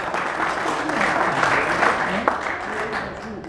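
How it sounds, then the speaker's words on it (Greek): An audience claps in a steady burst at a 1983 class reunion gathering, the applause filling the room at moderate loudness with some murmur beneath. "Άρα άλλο ένα χειροκρότημα παρακαλώ."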